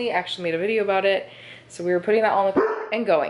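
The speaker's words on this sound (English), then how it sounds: "Sorry for my dog." A household dog barks and yips in loud, pitched bursts, overlapping a person talking nearby in a home setting.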